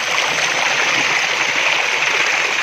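Samrala waterfall, a small cascade pouring down over worn mountain rocks, gives a steady, dense, hissing rush of falling water, close and constant with no talking.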